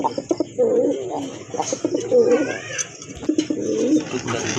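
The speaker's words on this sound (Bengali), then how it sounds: "এটা হচ্ছে এক জোড়া রাজগোল্লা কবুতর" A pair of Rajgolla pigeons coo in soft, throaty bursts, several calls overlapping, close by, with people talking in the background.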